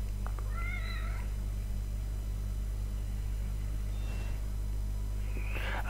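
A cat in a video game meows once near the start, a short rising-falling call over a loud constant low hum, followed by a fainter second meow at the very end.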